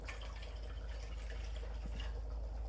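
Water runs into a baste mixture for a roasting suckling pig, a faint steady pour with light drips and splashes, close but quiet, no voices.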